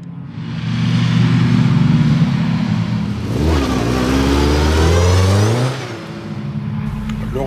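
A prepared race car accelerates hard on a damp circuit at Lurcy-Lévis, its engine loud and close, revving up through rising pitch, dropping briefly, then climbing again before easing off.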